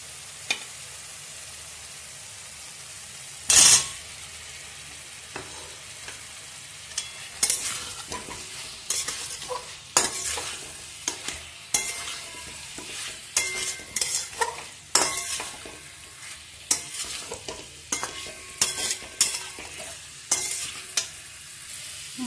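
Fried baby potatoes stirred into a spiced masala in a pan for a Bengali potato curry, with repeated scraping spoon strokes and a steady sizzle throughout, close and fairly loud, no talking.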